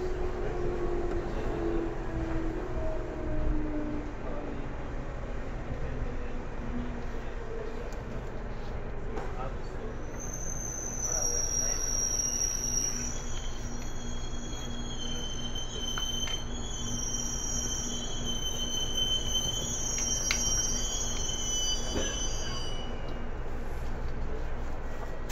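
Window-side running sound from inside a JR Kyushu 811 series local train between Fukuma and Kokura bound for Mojiko, with a steady rumble of wheels on rail and high squealing tones drifting throughout, faint announcement-like voices in the background.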